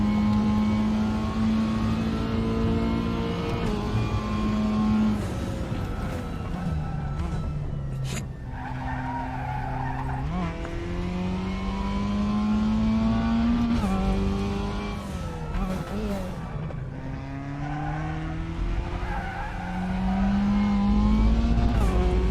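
A race car in a sim racing video game played on a G29 wheel revs up and down through the gears, engine tone rising and falling steadily, with tire squeal and skids on corners, loud and continuous.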